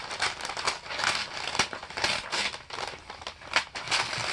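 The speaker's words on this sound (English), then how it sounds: "we are cutting the wrapping paper" Rapid crisp snips and crinkles of paper being cut, close and fairly loud, with irregular bursts of sharp rustling throughout.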